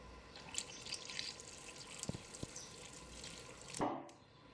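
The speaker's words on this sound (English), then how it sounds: "to this I'm going to add in our warm liquid" Warm liquid is poured into a well of flour in a mixing bowl for naan dough, a quiet trickling and splashing with a few small knocks and a brief louder pour near the end.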